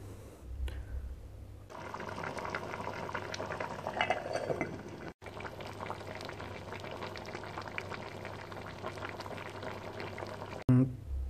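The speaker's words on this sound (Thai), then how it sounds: "เห็นไหมครับน้ำก็จะเดือดขึ้นมากำลังดีนะครับ" Water rolls to a boil in a pot of Thai sour curry with tilapia and cauliflower, giving a close, steady bubbling. A brief break comes midway, and a clunk sounds near the end, with no speech.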